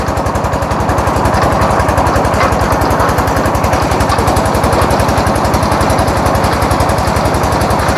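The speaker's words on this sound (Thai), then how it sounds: "เสียงรถดังพี่น้อง" Loud vehicle engine running close by, a harsh rapid rhythmic chugging rattle that holds steady throughout, with no talk over it.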